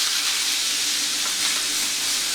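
Pot roast beef just flipped and searing in a hot pan gives a loud, steady, hissing sizzle with no pauses and no talk.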